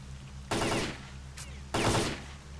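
Gunfire from a gun in a video game set on the road to Pripyat: two loud, close bursts of shots separated by about a second of quiet, with a brief fainter shot in between.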